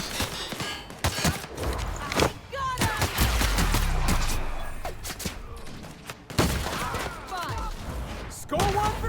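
Bursts of gunfire and impacts in the sci-fi video game The Outer Worlds, several sharp shots and thuds scattered through a busy game mix, fairly loud, with a voice talking in between.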